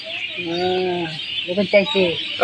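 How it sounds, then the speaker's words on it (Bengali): A baby bird chirps close by in short harmonic calls, first a sustained call and then a quick series, with a person talking excitedly alongside. "পাখির বাচ্চাটা দেখো না এই যে"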